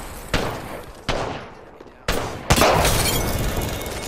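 Gunfire in an Apex Legends firefight: a few sharp cracks spaced apart, then a louder burst that trails into a sustained noisy wash, close and with no talk over it.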